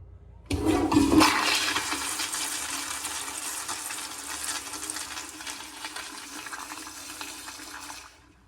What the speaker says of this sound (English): It won't surprise me if this takes 2 flushes to get it down.